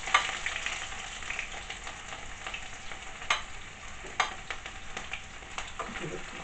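Onions sizzle steadily in a hot pan for bacon vegetable fried rice, a bright, close crackle with occasional sharper clicks of stirring and no talking.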